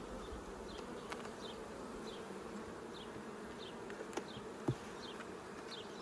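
Honeybees, mostly female workers, hum steadily around an open hive with honey frames, individual bees zipping past close by over the continuous drone, with a few faint knocks.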